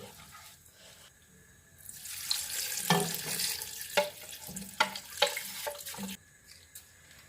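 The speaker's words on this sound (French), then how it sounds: "j'ajoute 2 litres de bouillon de volaille" About two litres of chicken stock pour into a pot of cabbage soup, a rushing splash that swells for roughly four seconds, broken by a few sharp clinks against the pot, moderately close.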